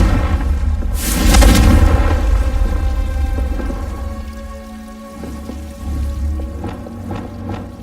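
Confringo fire-blast spell in the Hogwarts Legacy game, a loud booming explosion with crackling burst followed by a rumbling tail and a few lighter impacts, no talk.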